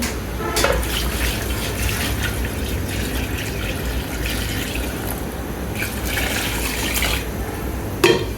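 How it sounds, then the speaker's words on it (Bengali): Water is poured into a cooking pot in a steady, splashing stream, moderately loud and close, with a couple of small knocks. "তারপর দিয়ে দিচ্ছি পানি।"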